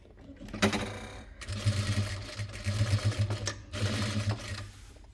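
Sewing machine stitching a trendy Japanese-style fabric bag, running in three steady bursts of rapid needle chatter with short pauses between, close and clear.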